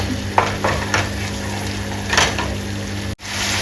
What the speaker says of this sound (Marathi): टमॅटोची पिवळी घालून घेऊया तेल पर्यंत आपण ह्याला पण छानपैकी परतून घेणार आहोत